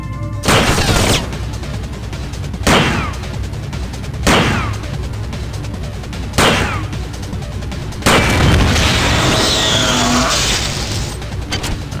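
Heavy gunfire from weapons in System Shock 2: five loud, booming shots spaced about two seconds apart, each ringing out briefly before the next, with no talk over them.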